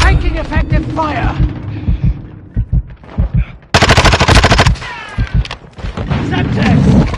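Video game gunfire rattles in rapid automatic bursts and single loud shots, close and harsh, mixed with radio-style voice callouts and a player talking between volleys.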